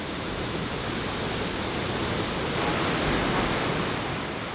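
Waterfall at Gan Eden, Israel, white water plunging through green foliage in a steady, dense roar of falling water that fills the whole clip without letup, loud and close with no voices.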